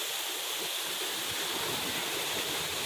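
The Sri Gethuk waterfall in Gunung Kidul pours over karst rock, a dense, unbroken roar of rushing water that is close and loud throughout, with no talking.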